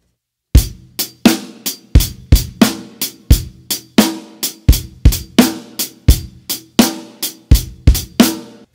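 Programmed-style drum groove with a loosely swung feel and hi-hats pushed loud to the front of the mix; steady kick, snare and bright hat hits repeat evenly for several bars with no voices.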